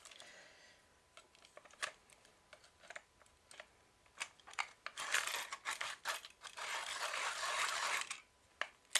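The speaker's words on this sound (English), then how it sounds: "Really need to sharpen this guy, so we will get my little trusty swordfish." A Swordfish hand sharpener shaving a pastel pencil, giving a run of quiet, close scraping and crunching strokes that grow denser and louder midway, then taper off, with small taps between.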